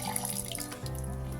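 Water trickles and splashes into a bowl of pitha batter for a sweet rice-flour cake, a short close pour that shifts to a steadier, lower gurgle partway through.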